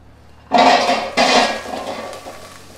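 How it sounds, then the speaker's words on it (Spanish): Potatoes dropped into the metal basket of an Oster 3.2 L air fryer, two quick clattering rattles close by, the second fading into a short settling jangle. "vamos a meter las papas"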